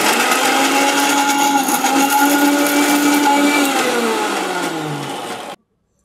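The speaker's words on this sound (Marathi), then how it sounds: "मिरसांग, कोथिंबीर पालो, जिरे, थोडे उपवासाचे मीठ आणि उदक घाल हे वाटून घ्या" A mixer grinder blends green chilli, coriander, cumin, salt and water into a chutney, a loud steady whirring drone with a falling pitch toward the end before cutting off abruptly, close and alone.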